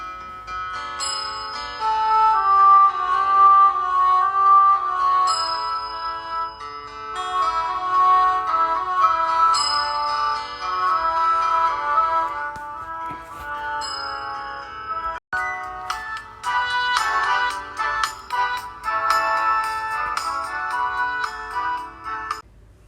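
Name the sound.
M*A*S*H TV show theme song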